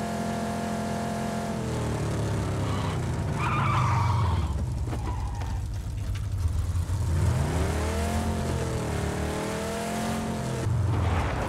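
A vehicle driving in PUBG's Miramar desert, its engine revving and shifting pitch as it accelerates, with tires skidding and squealing through turns, fairly close and loud with no talking.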